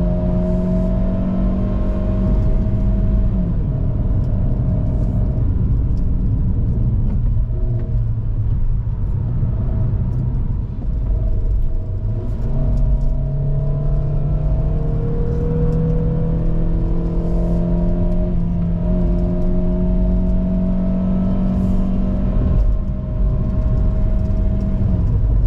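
A GAC GS3 SUV with a 1.5-litre naturally aspirated engine and six-speed automatic climbs Genting hill, engine droning loudly and straining under load, revs rising and falling with gear changes throughout.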